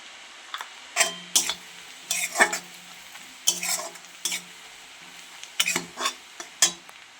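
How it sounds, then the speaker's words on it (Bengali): Spices stirred into fried onion in a pan, with turmeric, chilli powder and ginger-garlic-chilli paste, giving quiet scraping strokes and short sizzling bursts in an irregular rhythm with no talk. "মশলাটা ভালো করে কষিয়ে নেব।"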